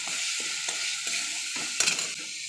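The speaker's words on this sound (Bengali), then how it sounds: "মশলাটা একটু ভালো করে ভেজে নেব" A steady sizzle of onion, ginger, garlic and green chilli masala paste frying in a pan, with a few soft stirring scrapes breaking through a continuous hiss, close and moderately loud.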